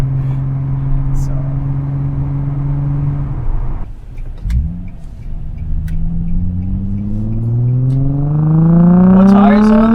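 A car fitted with a Z1 Touring cat-back exhaust cruises with a steady drone, drops off throttle briefly, then accelerates hard with a rising, rasping exhaust note heard from inside, with some talk mixed in.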